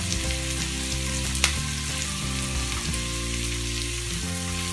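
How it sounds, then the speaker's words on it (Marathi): Masala sizzles steadily in a pan while cooking for prawn masala, a constant close frying hiss with a low hum beneath and one brief sharp tick, no one speaking. "मसाला छान थोडा लाल होईपर्यंत फ्राय करून घ्यावा।"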